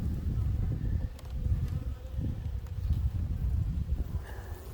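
Honeybees swarm around an open hive during a February inspection, a dense continuous buzzing hum close by with no pauses.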